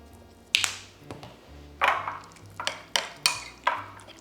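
New jar of Dijon mustard being opened in a kitchen: a series of sharp clicks, taps and light clinks, close and distinct, spaced irregularly across a few seconds.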